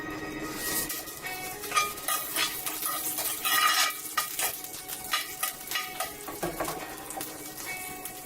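Green and dried chillies frying in ghee in an iron pan, a steady close sizzle and crackle with the occasional scrape of a stirring spoon against the metal, running on with no talk.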